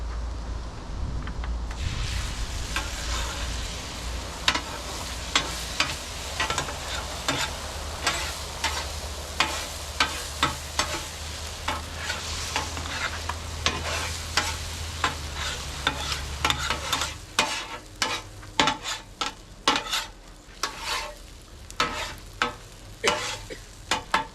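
Eggs scrambled in a hot pan for a breakfast burrito, with a steady sizzle under repeated sharp scraping and clacking strokes of a utensil against the pan, loud and close throughout.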